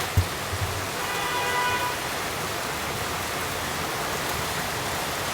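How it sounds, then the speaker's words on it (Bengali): Heavy rain falls steadily, a continuous soft hiss without breaks that stays fairly quiet and even throughout, with no voices over it. "কি পরিমাণ যে বৃষ্টি শুরু হয়েছে"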